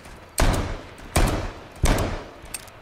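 Gunshots in the video game H1Z1, three heavy, evenly spaced booming shots about three-quarters of a second apart, each with a short ringing tail, plus a faint fourth pop at the end.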